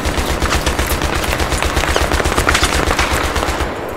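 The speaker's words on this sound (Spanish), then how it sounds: "¡Ay, que me dispara!" Rapid automatic gunfire in the Battlefield video game on the Caspian Border map, loud, dense, continuous bursts running the full length with no talking.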